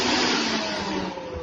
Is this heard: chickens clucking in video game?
no